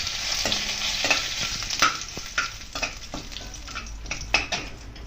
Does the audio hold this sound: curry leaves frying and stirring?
yes